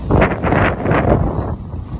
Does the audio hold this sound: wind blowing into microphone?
yes